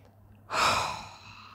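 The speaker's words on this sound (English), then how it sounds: "deep breath in" One deep, audible breath taken close to the microphone, a sharp rush of air that swells and fades over about a second.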